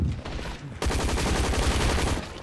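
Gunfire in a zombie shooter video game opens with a few shots, then turns into a loud, rapid burst of continuous fire that lasts to the end.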